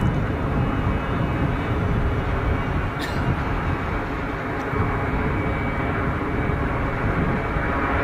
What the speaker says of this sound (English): Why, monsieur, with this Dreamliner, you are spoiling us.